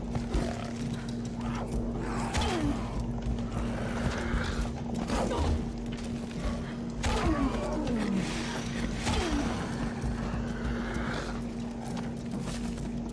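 Jaguars snarl and roar in the jungle of Shadow of the Tomb Raider, rising in repeated growling swells over a steady droning background, with a voice talking faintly at times.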